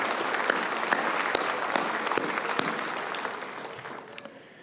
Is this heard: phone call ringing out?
no